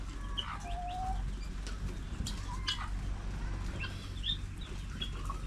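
Darag native chickens and roosters clucking and calling amid a busy farmyard, with several bright crows and chirps rising over a steady low background rumble throughout.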